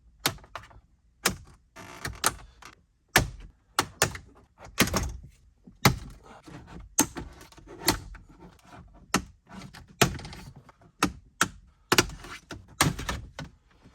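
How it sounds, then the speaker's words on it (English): Plastic trim panel clips on a Chevy Silverado dash pop loose in a series of sharp, close snaps and thunks, coming in uneven bursts about every second with short pauses between, with no talking. "We can move around here until we start hearing it pop all those clips out."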